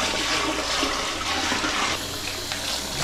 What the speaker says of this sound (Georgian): წყალი უნდა გადავაქციოთ ახლა.